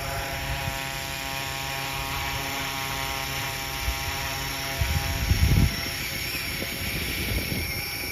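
A small RC helicopter whines steadily with a high, buzzing rotor drone, holding a hands-free hover in gusts up to 25 mph while wind rumbles against the mic.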